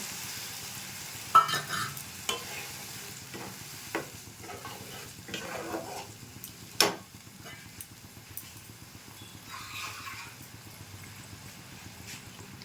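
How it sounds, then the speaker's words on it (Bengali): Water added to a maida vegetarian dish with turmeric in a pan gives scattered sizzles and scraping stirs, sparse and moderately close with a few sharp clinks. "এবারে একটু জল দিয়ে দিচ্ছি"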